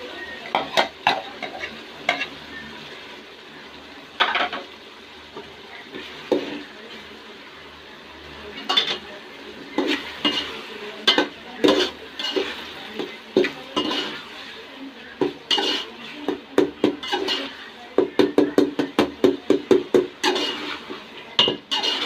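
Lentils go into a pan of softened cooked tomatoes and are stirred. A spoon scrapes and clanks against the pan in irregular bursts that quicken toward the end, over a faint sizzle, close and fairly loud.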